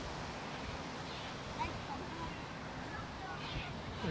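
Strong wind blows outdoors at the Tesselaar Tulip Festival, a constant broadband roar with a few brief gusts, while people talk faintly beneath it.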